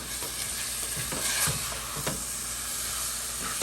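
Beef seasoned with paprika, salt and pepper fries in a pot, a close, continuous sizzle with faint stirring scrapes and occasional louder crackles throughout.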